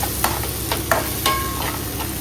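Ginger garlic paste sautéing in a pan for a goat head curry gives a loud, steady sizzle and frying hiss up close, broken by a few soft spoon scrapes.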